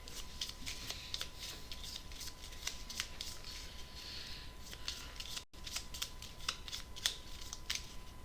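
Pandemic board game cards being shuffled repeatedly at close range, a steady run of crisp riffling flutters with a brief break partway, and no talk over them.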